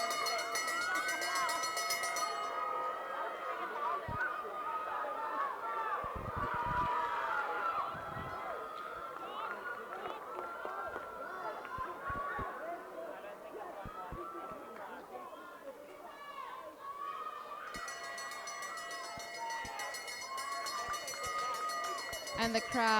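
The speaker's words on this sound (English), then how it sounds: "the crowd is getting very excited for these boys under 10" Spectators at an under-10 boys' 1,200 m race at the KZN school track and field championships raise a steady, excited roar of chatter and cheering that swells and holds throughout, with no clear words.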